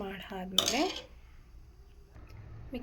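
A spoon stirs mushroom pulao inside a pressure cooker, with a sharp metallic clink and scraping against the pot, followed by quieter faint scraping; a voice speaks briefly at the start and end.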